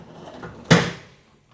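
A door removed for hinge replacement is opened and dragged, giving a single sharp scraping thud followed by a short fading rumble, close and moderately loud with no talk.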